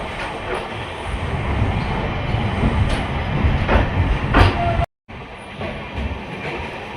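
Express train 16348 Thiruvananthapuram Central Express, running with 2024-built LHB coaches, pulling out of Mangaluru Central station with a loud, continuous rolling rumble and rhythmic wheel clacks. A brief dropout breaks the sound near the end.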